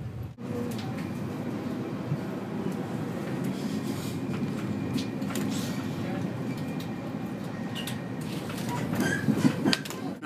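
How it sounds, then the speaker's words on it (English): Steady low rumble of a train moving along the tracks, heard from inside, with occasional clicks and knocks and some faint voices. "We've been on a train all day."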